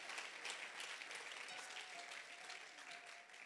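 A church congregation applauds to acclaim the Lord, a dense, steady wash of clapping that holds evenly from start to finish without any voices rising above it.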